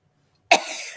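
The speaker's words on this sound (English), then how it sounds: "I was trying to hold that cough in, and I just finally got some relief" A single sharp cough bursts out after a moment of silence, close and loud, then trails off into a brief breathy rasp.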